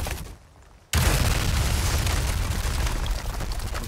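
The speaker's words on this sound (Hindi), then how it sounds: "मेरे ऊपर ही बम फोड़ दिया" A bomb blast in the Resident Evil 4 village area bursts in after a brief quiet, a loud, close boom that spreads into a sustained, roaring rumble for the rest of the moment.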